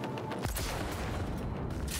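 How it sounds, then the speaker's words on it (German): A sniper rifle fires in Cyberpunk 2077, one sharp report standing out against dense, continuous game noise and gunfire ambience. "Ich bin gerade offensichtlich nicht in der Lage, anständig mit einem Scharfschützengewehr zu schießen."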